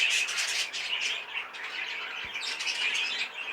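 A posture canary kept in a shed chirps and twitters in short bursts, fairly close and moderately soft, with a faint rustle of movement.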